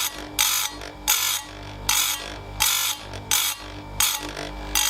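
A chain grinder sharpens chainsaw chain teeth with short bursts of bright, harsh grinding. About six bursts come in a steady rhythm, one each second or so, over a constant low motor hum.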